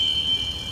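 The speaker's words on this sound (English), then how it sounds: "this building alarm went off." An automatic building fire alarm sounds at S 2nd St and Burnette Ave S. It gives a steady, piercing high electronic tone throughout a brief moment, loud and close, with no voices.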